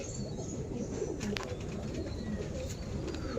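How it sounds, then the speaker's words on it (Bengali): Pigeons coo softly in a steady low murmur near a loft, with faint chirps and a brief flutter of wings over constant background hum. "খুব সুন্দর পায়রা, ম্যাটাজি পায়রা।"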